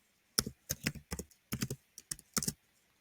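Fingers type on a computer keyboard while coding, with quick close clicks coming in several short bursts separated by brief pauses, in a quiet room with no speech.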